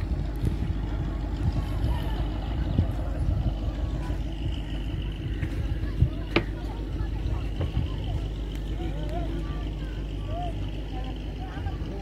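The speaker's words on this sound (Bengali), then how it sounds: "একটা ট্রলার, বালি বোঝাই ট্রলার যাচ্ছে।" A sand-laden trawler boat passes on the Padma river, its engine a steady low rumble with wind noise, while people talk over it.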